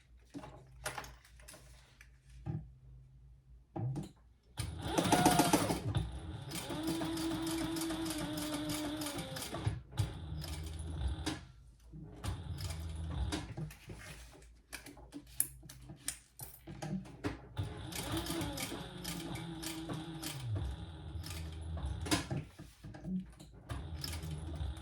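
Sewing machine top stitching a leather waist pack, running in steady slow bursts with brief pauses between rows, close and fairly loud, no talking.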